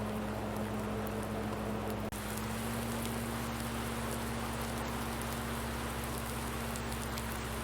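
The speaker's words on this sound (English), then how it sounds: "So it's still raining" Steady rain patters without letup in Farming Simulator 19, a dense hiss over a low droning hum, with one brief click partway through.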